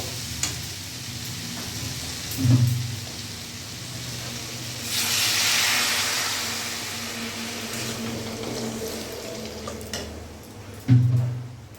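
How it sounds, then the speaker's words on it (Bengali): Sautéed fig curry sizzles and hisses in a hot pan as water goes in, with a swelling hiss midway and a couple of nearby knocks of a stirring utensil against the pan. "এখন আমি জল দিয়ে দেবো"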